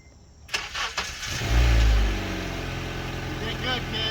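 A car bought from a Copart auction cranks for a few seconds, catches and fires up, then settles into a steady idle while people talk over it.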